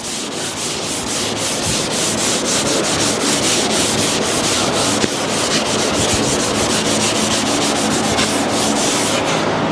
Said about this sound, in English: they want to rock back and forth while you're sanding them